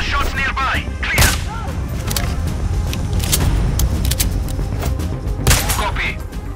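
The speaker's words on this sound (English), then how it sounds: "Charlie One, I hear shots nearby." Gunfire in the video game Sniper Ghost Warrior Contracts 2 crackles in sharp bursts over a dense, steady background of game noise and booms, with a voice speaking over it.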